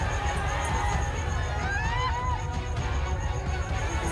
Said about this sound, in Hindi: उस सिनेमा हॉल में दोस्तों देखिए कि खचाखच भीड़ रहता है ऑडियंस का